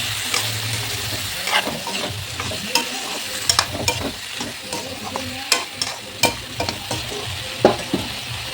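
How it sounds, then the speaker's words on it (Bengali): Potatoes and tomatoes fry in oil with five-spice tempering and turmeric, a close steady sizzle broken by repeated sharp scrapes and knocks of a spoon stirring in the pan. "এখানে তেল বসা দিয়েছি আর 5 ফোড়ন দিয়ে দিয়েছি"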